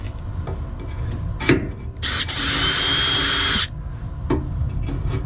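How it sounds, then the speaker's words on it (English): A power drill whines in a sustained burst of about a second and a half while drilling out a rivet hole on a Ford Raptor F150, bracketed by short clicks and handling knocks. "I'm going to go ahead and drill the last one out"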